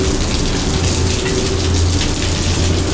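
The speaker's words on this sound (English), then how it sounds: "even if it is pissing down with rain" Heavy rain pours onto a pier in a broad, dense and continuous wash of drops, loud and close throughout, with no voices heard.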